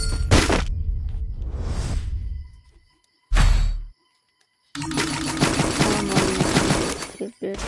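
Gunfire bursts erupt in a shooting video game, sharp loud volleys and shattering impacts separated by abrupt silences, then a long dense stretch of rapid fire.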